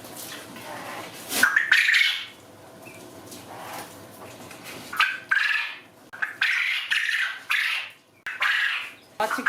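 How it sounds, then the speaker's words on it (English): Birds in a wintry backyard coop where ducks are kept, with roosters crowing in repeated loud calls and squawks, close by and alone with no talk. "Lots of crowing going on in here this morning."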